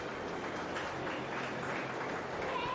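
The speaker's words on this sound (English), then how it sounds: "Let's give these showmen a nice round of applause as well" Steady audience applause at a dairy goat show in Ripley County, given for the young showmen; an even, continuous patter of many hands at moderate distance, with no speech over it.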